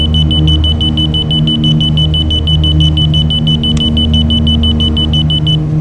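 An aircraft marker beacon tone in an Aero Commander flight simulator on an Alaskan route sounds as a steady rapid series of high beeps over a constant loud engine drone, with no talking.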